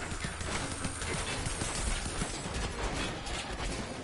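Goat hooves clatter in Plants vs Zombies Garden Warfare 2 on PS4, a busy, steady clip-clop rhythm running throughout beneath dense game noise and effects.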